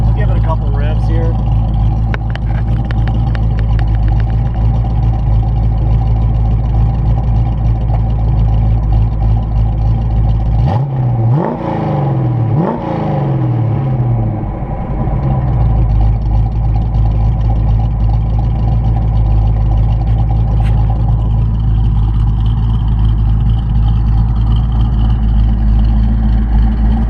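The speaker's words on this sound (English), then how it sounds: "I'll give it a couple revs here." A 1985 Saleen car engine idles steadily, then revs twice in quick succession before settling back to a low idle, with a voice talking over the rumble.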